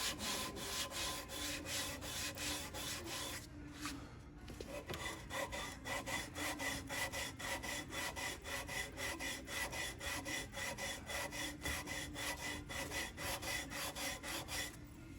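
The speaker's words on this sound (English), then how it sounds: "I sand all different ways to try to take any humps off, and then go back and forth with the grain." A wooden Beetle Cat half hull model is sanded by hand in steady back-and-forth strokes, producing a rhythmic, close, scratchy rasp that continues with only a brief pause.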